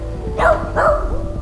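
Two quick, close dog barks in succession, then a steady low background.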